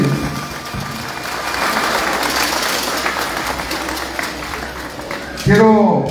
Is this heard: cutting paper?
no